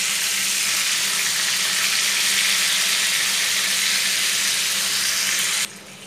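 Marinated lamb chops frying in a pan: a steady, loud, hissing sizzle that continues evenly, then drops suddenly to a quieter level near the end.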